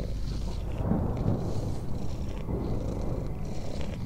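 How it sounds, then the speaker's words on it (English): A petted cat purrs in a video game, a low continuous rumbling purr that runs steadily throughout, close up and alone with no talking. "Oh, you can pet the cat."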